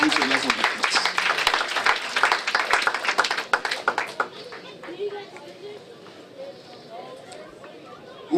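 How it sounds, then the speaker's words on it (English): Congregation clapping together during a Thanksgiving church service, dense and lively for about four seconds with voices mixed in, then thinning to quieter scattered room sound and murmurs. "Let's clap for Jesus."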